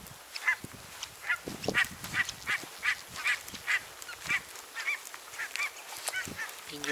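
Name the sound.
ducks quacking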